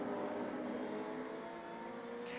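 Classic Ford Escort and Mini race cars run on the Rockingham circuit, with a steady, droning engine roar held at moderate distance and no voices.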